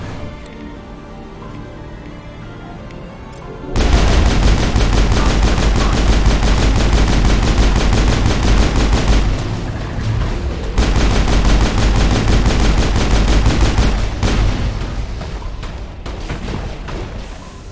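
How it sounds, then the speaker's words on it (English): Sustained automatic gunfire from a Mass Effect 3 multiplayer match, loud and dense after a quieter opening, with shots rattling continuously for over ten seconds before easing slightly toward the end. "You can see the shots coming from so far away."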